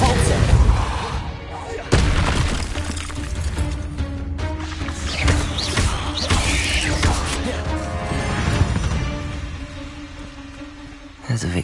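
Spell effects from Hogwarts Legacy gameplay as Depulso is cast, a dense mix of booming impacts, crashes and rumbling blasts over game music, with a voice talking through part of it.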